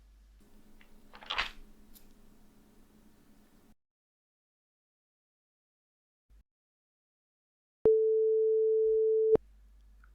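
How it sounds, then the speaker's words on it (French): A steady electronic tone sounds alone for about a second and a half after a stretch of faint low hum and a brief rustle, then cuts off cleanly. "Une tonalité."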